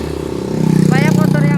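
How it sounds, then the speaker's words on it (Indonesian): Motorbikes roll past on a road with steady engine rumble and a rising buzzing whine, fairly near and continuous, under someone speaking. "Banyak motor yang lewat."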